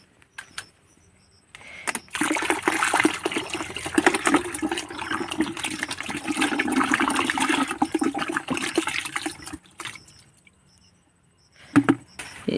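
Roughly two litres of water poured into a vinegar mixture for a homemade grass killer, a steady rushing gush lasting about eight seconds, close and alone, with a brief splash afterward.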